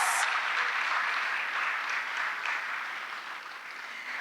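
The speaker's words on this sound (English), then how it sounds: "Let's give them a round of applause." Audience applause for student presenters at a school speak-off competition and awards ceremony: dense, steady clapping from a crowd that starts strong and slowly tapers over about four seconds, with no talking.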